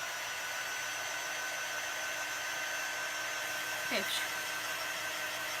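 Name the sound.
hair dryer drying chalk paste letter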